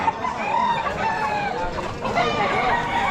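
Chickens, including Cuban hennie fowl, clucking at a Malolos pet market, overlapping throaty clucks and calls from several birds close by, continuous and fairly loud amid market bustle.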